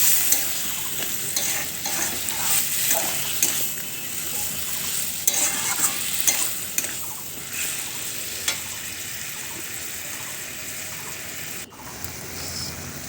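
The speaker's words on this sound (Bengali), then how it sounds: "জল দিয়ে একটু নাড়তে থাকবো।" A spoon stirs paneer curry masala in a pan after water is added, with continuous sizzling and bubbling, scraping strokes, and a few sharper clinks standing out over a steady frying hiss.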